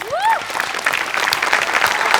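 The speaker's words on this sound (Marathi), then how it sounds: "सगळ्यात आधी खूप जोरदार टाळ्या वाजल्या पाहिजेत" Loud, sustained applause from a crowd, dense steady clapping throughout, opening with a brief rising whistle-like tone.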